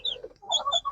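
Chicks in a coop give short, high cheeps and chirps, several overlapping in quick bursts, close and fairly clear.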